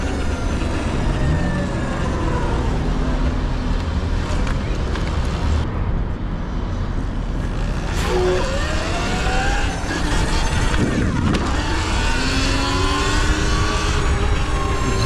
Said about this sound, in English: So much traffic right now.